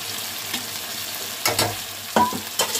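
Beef with masala spices fries in a pot under a low steady sizzle, broken by a few sharp stirring scrapes near the end, close up and without talk.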